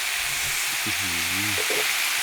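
Beef steak seasoned with black pepper and salt frying in a hot pan, a steady close sizzle with rendered fat spitting, running alone without talk.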